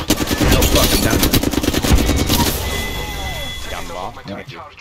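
Rapid automatic gunfire rattles out in Apex Legends, a dense loud burst of shots for roughly two and a half seconds, then fading into quieter game noise with a few chirpy effects.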